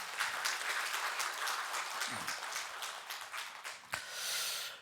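A church congregation at a Sunday morning worship service applauds in praise of God, a modest, somewhat distant patter of clapping that tapers off, ending with a single sharp knock.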